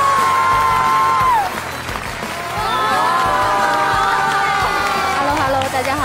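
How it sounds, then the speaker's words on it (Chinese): A studio audience at a Chinese television variety show applauds and cheers to welcome the host Hu Ke. Loud, continuous clapping mixes with whoops and bright tones from the crowd. "掌声有请胡可。"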